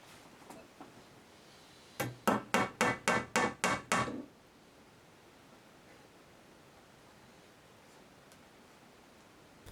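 A hammer drives a nail into a wooden block to pin down the end of a gut string, eight quick sharp blows in a steady rhythm, close and alone against a quiet background.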